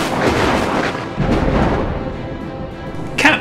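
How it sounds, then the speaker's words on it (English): Deep rumbling thunder rolls through a heavy rainstorm, loud and sustained, with a sharper crack near the end. "It was raining. In fact, it was quite a storm."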